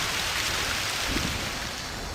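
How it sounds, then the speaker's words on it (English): Heavy Amazon rainforest downpour, a dense continuous hiss of rain close by with no voices. "And there's that Amazon downpour."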